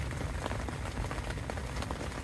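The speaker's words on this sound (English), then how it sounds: "it will stop raining" Steady, dense rain from a severe thunderstorm drums on a surface close by at a campsite, a constant broadband hiss with no pauses and no voices.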